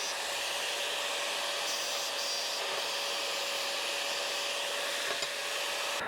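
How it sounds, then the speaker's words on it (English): A thin cut-off wheel grinds through heavy steel plate in a steady, loud, continuous high-pitched whine and hiss with a constant tone, running alone without talk. "These zip cuts are just real thin wheels for cutting, so you go through quite a few of them when you're cutting heavy stuff."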